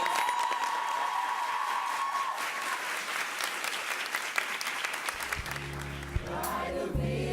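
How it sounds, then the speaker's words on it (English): Audience applause from a school event crowd welcoming the St. Elizabeth Technical High School choir to the stage, a dense, steady clapping wash lasting throughout, with some faint background sounds toward the end. "Please give a massive round of applause for St. Elizabeth Technical"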